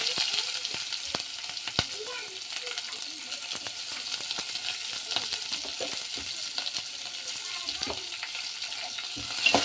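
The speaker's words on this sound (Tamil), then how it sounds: "இப்போ ஆனியனை கொஞ்சம் நல்லா வதக்கலாம்" Chopped onion sautéing in a pan with browned lentils for beetroot chutney, giving a steady close sizzle with scattered clicks and scrapes of stirring throughout.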